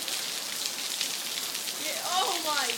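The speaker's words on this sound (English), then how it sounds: "You look over here to the right, it's just solid downpour." Heavy downpour at Little Switzerland, a dense, steady hiss of rain pounding surfaces throughout, with a voice briefly rising underneath near the end.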